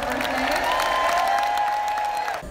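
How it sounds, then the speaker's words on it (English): A crowd at an OnStage Live event in Orlando claps in a warm, continuous round of birthday applause, with a voice or whistle line carrying above the steady clapping until it tapers off at the end. "So can we give Adam a round of applause for his birthday?"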